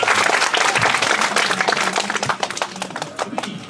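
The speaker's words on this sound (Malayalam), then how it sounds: "നല്ല ക്ലാപ്പ് ചെയ്ത്" An audience of children at the Maramon Convention applauding together, a dense burst of close clapping that thins into scattered claps toward the end.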